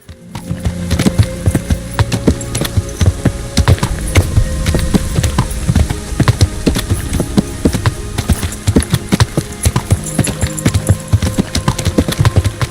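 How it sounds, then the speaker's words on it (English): Steady horse hoof clip-clop in Kingdom Come: Deliverance, a close, rhythmic run of hoofbeats with no pauses, sitting over a busy game background. "Pô, ficou travado o cavalo"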